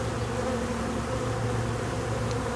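Honey bee colony buzzing at the hive, a dense, steady swarm drone that stays loud and close throughout with no pauses.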